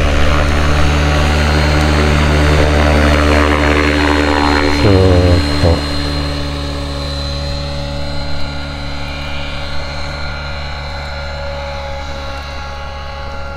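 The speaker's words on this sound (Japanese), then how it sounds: "音、ローター回転の、ね、音とかもいい感じの音になっています。" REX550X radio-controlled helicopter in orbit flight, its rotor giving a steady loud whirring drone with a brief dip partway through, while someone talks briefly over it.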